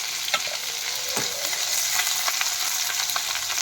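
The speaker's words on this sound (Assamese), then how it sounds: "এই আগতে পিঁয়াজ ভাজি ল'লোঁ।" Onions fry in oil in a pan for a pork and potato curry, a dense close hiss broken by scattered clicks and scrapes of a stirring utensil, with no voices.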